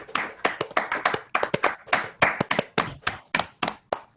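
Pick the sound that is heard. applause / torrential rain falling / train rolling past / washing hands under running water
applause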